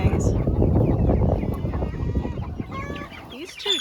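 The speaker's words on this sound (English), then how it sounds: "these speckled Sussex get so loud" Speckled Sussex chickens cluck loudly and continuously on a farm, with several birds calling over one another at close range and a few higher squawks near the end.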